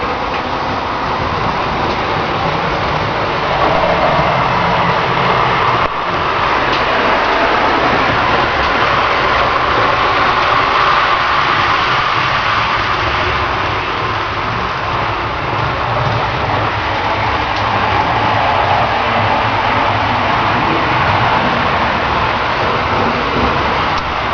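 A steady, continuous rumble of an HO-scale model train running along track on a layout, unbroken and fairly loud for the whole stretch with no talking.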